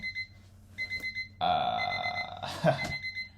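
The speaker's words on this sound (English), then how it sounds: "timer's beeping" A kitchen-style timer beeps in a repeating pattern of short electronic tones, then shifts into a sustained, louder ringing alarm, heard fairly close with no speech over it.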